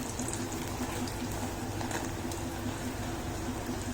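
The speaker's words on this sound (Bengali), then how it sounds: "আর একটু ভেজে নেব, গোল্ডেন ব্রাউন করে নেব, তারপর নামিয়ে নেব" Eggplant slices frying in hot oil, a continuous close bubbling sizzle that holds steady and fairly quiet throughout.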